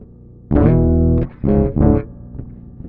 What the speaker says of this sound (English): The pitch shifter tracks really well.